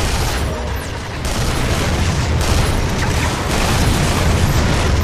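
A loud, sustained explosion roars through a Duke Nukem Forever battle, with dense rumbling debris and bursts filling the whole stretch.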